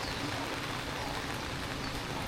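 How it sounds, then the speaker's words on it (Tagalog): Steady rain pouring down outside a small roadside store, a dense continuous hiss of drops hitting surfaces with no pauses, close and moderately loud throughout. "Ay nako, umulan na naman."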